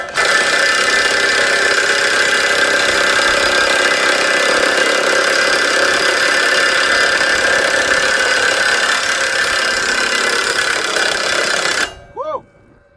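DeWalt DCF964 impact wrench loosening a tight nut on a blade spool, a long continuous loud hammering whine lasting about twelve seconds, then stopping abruptly followed by a brief spin-down and a voice.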